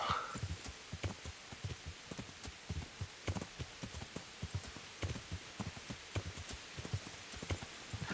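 Horse hooves clip-clop at a steady, regular gait in Kingdom Come: Deliverance, a medieval video game, with a faint patter like rain in the background and no talking.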